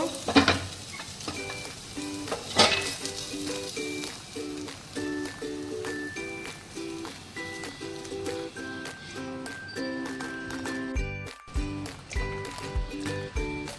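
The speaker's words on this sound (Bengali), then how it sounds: "সয়াবিনটা আমার ভাজা হয়ে গেছে এবার আমি এটা তুলে নেব" Soybean chunks frying in hot oil in a pan give a steady, close crackling sizzle that stays even across the whole stretch, with faint background music running underneath.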